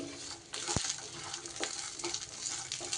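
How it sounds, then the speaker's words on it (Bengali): Paneer thecha masala frying in a pan over low heat, a soft continuous sizzle close by with a few sharp stirring scrapes and clicks, fairly quiet overall and free of speech. "এইভাবে একটু ভাজা ভাজা করে নিতে হবে।"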